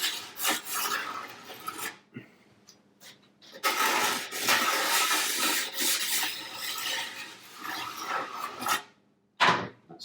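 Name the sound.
rubbing wet stone along snowboard edges to remove burrs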